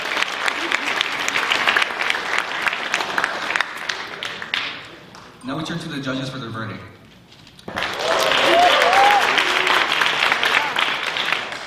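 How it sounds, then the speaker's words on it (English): An audience at a university debate applauds in two strong bursts of dense clapping, separated by someone speaking over a quieter stretch. "Let's give yourself a round of applause"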